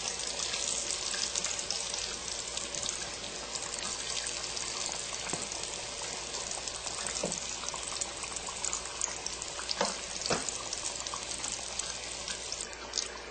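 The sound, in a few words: apple turnovers frying in a pan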